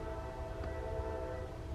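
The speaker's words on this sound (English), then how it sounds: "That is crazy that train comes by every time I want to make a video" A passing train rumbles steadily nearby, a low continuous drone with a sustained tonal horn-like hum layered on top, no voices.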